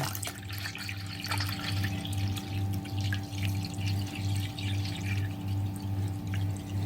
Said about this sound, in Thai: เราจะเทน้ำ4ลิตรส่วนที่เหลือลงไปนะ